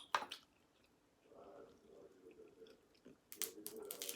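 Someone eats crunchy rotisserie chicken close to the mic, with quiet wet chewing and a few sharper crunches, faint and intermittent with no talk.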